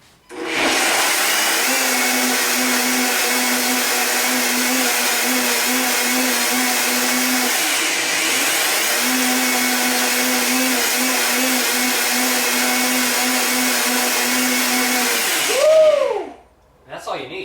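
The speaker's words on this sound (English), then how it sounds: "I'm gonna grab my blender top, gonna blend it up real quick" A blender whirs loudly and steadily for about fifteen seconds blending a pineapple green smoothie, with a brief dip in pitch midway, then stops.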